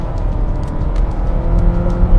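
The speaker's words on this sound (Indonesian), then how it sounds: "Kita coba kickdown aja gimana. Sekarang kita rem dulu, terus langsung kita gas." A Nissan X-Trail Hybrid with a 2000 cc engine and electric motor assist accelerates hard on kickdown, its loud engine drone and rumbling road noise rising steadily over two seconds, no voices.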